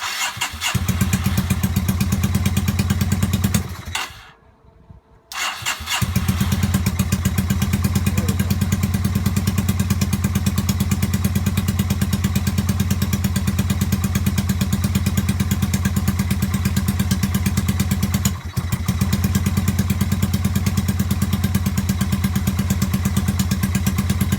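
A Yamaha SRV250 motorcycle runs at a steady, close idle while being started on choke. The engine cuts out briefly after about four seconds, then catches again and keeps running evenly to the end.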